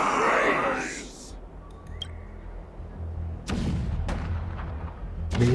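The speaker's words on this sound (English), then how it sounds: "Do you hear that? The rumble of the cannons." Cannon fire rumbling in the Honkai: Star Rail video game: a loud burst opens, then several heavy booms with rolling low rumble follow at uneven intervals.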